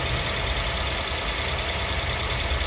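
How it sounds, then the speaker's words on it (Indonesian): A used car's healthy engine idles steadily, a constant low rumble with no rise or fall, close and continuous. "Setelah itu kita dengarkan suara mesinnya stabil."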